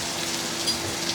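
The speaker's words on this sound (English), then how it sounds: "Let it cook for one more minute, then I'm gonna take it out the pan." Scallops searing in a hot pan give a steady, bright crackling sizzle, close and continuous for a brief moment with no talk.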